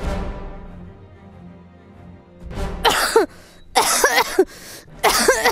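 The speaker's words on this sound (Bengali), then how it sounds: "প্লিজ কাশি দিন।" A woman coughs on request, faking a cold, with several harsh throat-clearing coughs in short bursts, close and loud, after a fading ringing tone.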